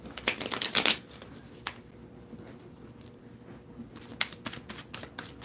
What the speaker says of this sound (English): Let me shuffle again.